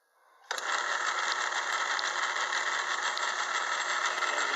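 A lathe gear set driving the carriage feed starts up with a sudden onset into a steady, close mechanical whir with a fine rattling texture, running evenly to the end.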